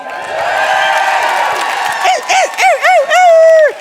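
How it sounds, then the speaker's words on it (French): A studio audience at a Quebec talk show roars with cheering and applause, then loud rising whoops and shouts burst out in quick succession, swelling toward the end. "Continuez d'applaudir."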